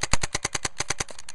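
A Planet Eclipse Ego 20 paintball marker dry fired at high speed, a fast even string of about a dozen sharp pneumatic cracks, loud and close, with no talk.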